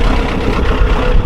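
An old Ford tractor diesel engine that had sat for years, running right after a start without glow plugs: a loud, steady low rumble filling the whole moment, close by with no voices.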